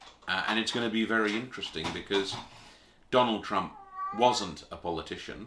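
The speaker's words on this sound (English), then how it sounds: "Sorry, that's just my cat talking." A house cat meows once, briefly, in a short gap while a person talks steadily throughout.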